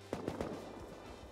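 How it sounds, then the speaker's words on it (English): Gunfire in a first-person shooter match, a few sharp shots in quick succession right at the start, then a low lingering rumble with no talk. "That was me shooting at Naked as well."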